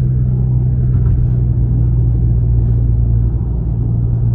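Renault Megane RS rolling in neutral, a steady low rumble with a constant droning vibration from inside the cabin, no talking.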